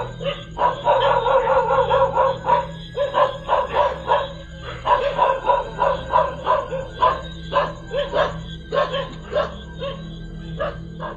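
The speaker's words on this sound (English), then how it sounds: "The two domestic dogs of the residents, upon seeing it, immediately began barking toward the mysterious apparition" Two domestic dogs at a residence bark persistently, mixing deep woofs with higher yips and whimpers in irregular rapid bursts, close and fairly loud over a steady low hum.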